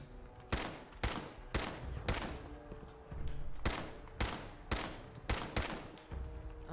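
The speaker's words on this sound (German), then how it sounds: "Ich schieß schon die ganze Zeit drauf." Bursts of gunfire in the video game Fallout 4, roughly a dozen sharp shots at uneven intervals, some in quick pairs, fairly loud with a thudding low end and no voices over them.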